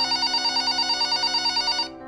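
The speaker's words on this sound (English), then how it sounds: "The phone rang." An old-style telephone bell rings loudly in a fast, steady, pulsing trill for nearly two seconds, then stops abruptly. No voices are heard with it.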